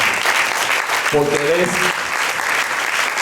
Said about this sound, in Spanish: Yo le invito a que usted le dé un fuerte aplauso al Señor